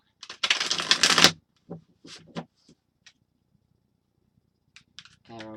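A Tarot of Dreams deck is shuffled in one loud, dense riffle lasting about a second, followed by scattered soft card taps and clicks, then a voice begins at the end.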